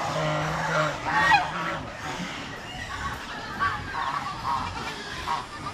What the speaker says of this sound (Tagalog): Tatlong sisiw ng pato.